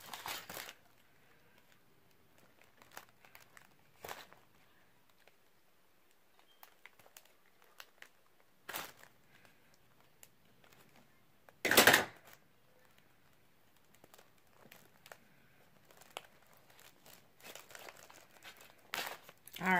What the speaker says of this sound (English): Let me just cut that open.